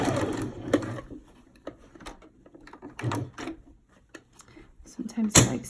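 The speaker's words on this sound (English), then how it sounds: "I'm going to sew it to where I'm going to do a straight stitch to hold it in place" Sewing machine running a straight stitch on elastic for a fitted crib sheet, close rhythmic needle bursts that start and stop unevenly, with a person speaking underneath.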